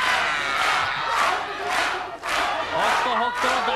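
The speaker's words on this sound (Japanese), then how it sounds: "おっと北斗の大コール大声援です。" A packed arena crowd at a women's pro wrestling tag league final chants a wrestler's name in rhythmic, pulsing waves of loud massed voices, with cheering and a few higher shouts rising near the end.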